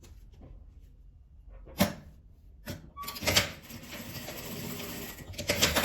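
A sewing machine stitches fabric, with the needle placed over a strip measured four centimetres along the edge; the motor runs in a steady, fairly close whir for the last few seconds after a few handling knocks, with no talk.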